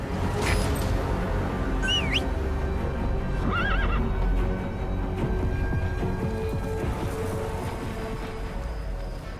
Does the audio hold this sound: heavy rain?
no